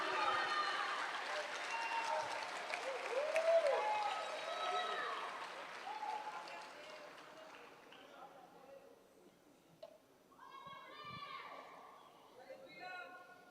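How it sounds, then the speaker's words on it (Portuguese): A church congregation at a Christian worship service claps for Jesus, the applause moderate and fading over several seconds before thinning into scattered sounds, with voices mixed in. "dê um forte aplauso a"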